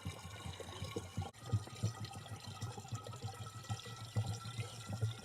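Water gurgling and bubbling as it fills a DIY vertical strawberry planter, a soft, close, continuous burble with small irregular pulses, no talking.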